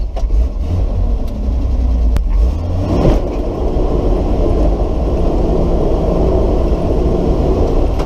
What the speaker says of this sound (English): All right, we're going to do a burnout in this.